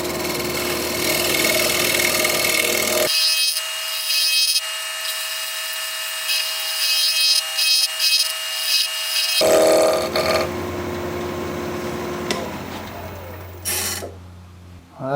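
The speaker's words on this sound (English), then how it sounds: "And just shear scraping." Shear scraping a koa wood bowl on a lathe: a continuous whirring, scraping drone with tonal whine, dropping to a thinner hum midway, then rough scraping returning before the lathe winds down.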